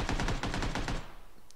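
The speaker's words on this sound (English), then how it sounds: "those gunshots were right behind Camo Man, right behind him" Rapid automatic gunfire in the PUBG video game, a quick burst of about eight shots in a tight rhythm followed by a fading tail, heard alone without speech.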